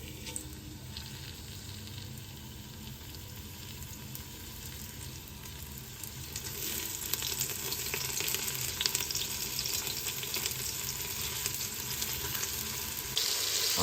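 Bite-sized beef stew pieces brown in a large pot with a low, even sizzle that grows louder and denser about halfway through, with faint crackles throughout.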